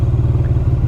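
170 HP sports touring motorcycle engine on throttle, a brief low pulsing rumble, close and steady with a rhythmic throb.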